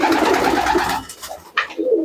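A Giribaz pigeon coos close by in a few soft, throaty rolling notes, with a brief pause before a final short coo.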